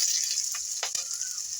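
Chopped onion, grated ginger and chilli hitting hot oil that already holds whole cumin, giving a bright, steady frying hiss with a couple of brief crackles, close and short, with no talking.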